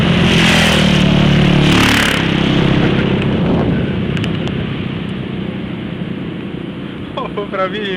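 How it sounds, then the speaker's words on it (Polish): Several motorcycles pass along a road, their engine roar loud and close at first, then easing off into a steady broadband rumble with wind noise. "No dwa motory będą sunąć."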